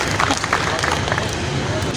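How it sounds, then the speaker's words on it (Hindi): An audience at a convention on human rights and missing persons claps in steady, dense applause that fills the hall, with some crowd murmur mixed in. "प्लीज़ ज़रा तालियां बजाएं"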